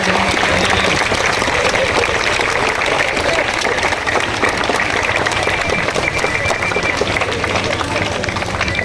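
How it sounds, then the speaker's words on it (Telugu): A school crowd claps at a Republic Day celebration following the national anthem, producing dense, steady applause throughout with voices mixed in. "క్లాప్."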